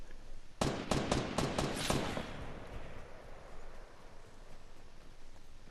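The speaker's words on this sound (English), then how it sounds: "as I hear gunshots" A quick volley of about seven sharp video game gunshots fires in a rapid sequence, then fades into a lingering, rustling echo.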